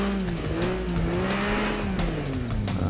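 An off-road vehicle in the Overpass game strains with its engine revving steadily while its wheels spin without traction, the motor's pitch wavering and sliding downward over a few seconds, loud and close.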